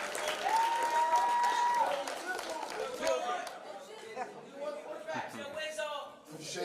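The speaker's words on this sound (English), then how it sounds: "Y'all clap it up for Cam." Crowd applause for a young quarterback at a youth football media day, clapping mixed with chatter and a few chuckles, moderately distant, with voices talking over it throughout.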